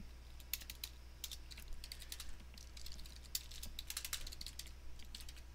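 Steady, fast keystrokes on a computer keyboard while writing Python code, a close, continuous patter of clicks with small bursts and pauses, over a low constant hum.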